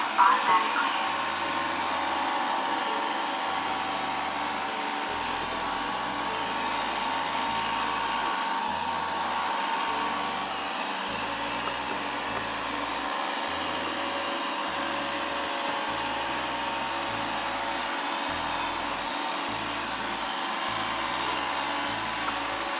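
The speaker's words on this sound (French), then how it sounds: "Si j'appuie sur le bouton auto, il ira passer l'aspirateur automatiquement." A small vacuum motor hums steadily nearby for over twenty seconds, with faint low bumps and shifts as the machine moves around.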